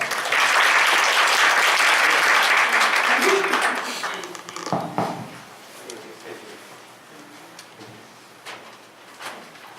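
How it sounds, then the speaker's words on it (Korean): Seminar audience at a software engineering technical talk applauds a speaker, a loud, dense burst of clapping for about four seconds that thins into scattered claps and room noise. "큰 박수 부탁드립니다."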